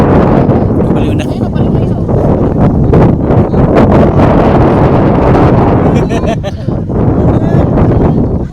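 Strong wind at a beach resort, a loud continuous roar buffeting the microphone close up, with people talking underneath.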